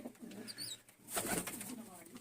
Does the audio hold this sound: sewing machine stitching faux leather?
no